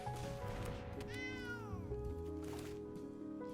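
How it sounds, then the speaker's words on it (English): A cat meowing near the microphone, with one drawn-out, rising and falling meow in the middle and a softer cry after it, over a low background hum. "Cat!"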